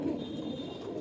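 A Kaldum pigeon in a breeding loft gives one short, low, throaty coo, heard close and alone against a soft background hum.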